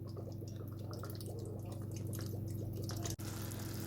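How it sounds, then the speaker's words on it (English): Balsamic vinegar runs into a barbecue sauce of melted onions and garlic, making a continuous close liquid trickle and faint bubbling, with one sharp click just before the end. "So now we're going to add some balsamic vinegar."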